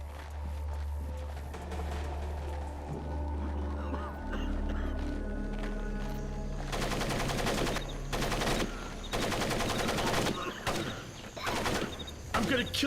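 Automatic weapon fire in the stealth video game Splinter Cell Pandora Tomorrow starts after a low ambient hum, breaking into loud sustained bursts and separate volleys of rapid shots that continue to the end.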